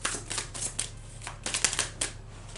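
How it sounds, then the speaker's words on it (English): A deck of oracle cards being shuffled close up, with a quick run of soft riffling flicks and papery slaps in uneven bursts over a quiet background. "Let me go ahead and give you an oracle card"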